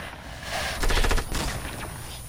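Close-range gunfire in a solo video game shooter: a quick burst of several sharp pistol shots in the middle, over steady in-game background noise.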